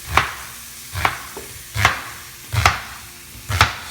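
An onion being chopped with a knife on a cutting board, about five evenly spaced firm thuds close up, with no talking, while a pot roast is being made.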